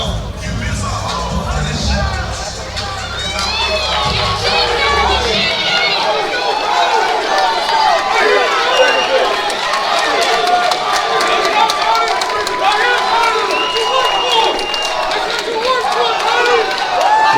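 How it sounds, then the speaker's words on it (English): A large crowd at an MMA event, Elevate FC, cheers and roars continuously with whistles and chatter, loud and dense throughout, with a low rumble fading early on. "The crowd's getting hype"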